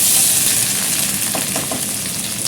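Cumin seeds sizzle hard in hot oil for pea rice, a loud, dense, continuous crackling hiss close up with light stirring, no voices.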